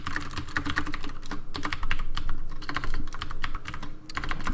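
Fast, continuous typing on a computer keyboard while writing Lua code, with dense clicking keystrokes and a few brief pauses, close to the mic with no talking.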